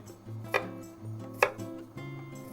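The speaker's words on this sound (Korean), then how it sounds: "마늘은 아주 잘게 다져줄 겁니다" A knife chops garlic finely on a cutting board, giving a few sharp, separated knocks about a second apart over a quiet background.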